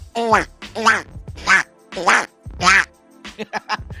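A voice imitates a duck, giving about five loud, nasal quacks in a row and then a quick burst of shorter ones. The quacks are close and clear, with nothing underneath.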